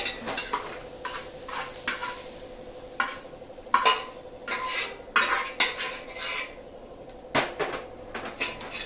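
Spoon or spatula scraping and clinking against a pan while fried onion is scooped out into a dish, a series of close, sharp metallic scrapes and taps over a faint background sizzle.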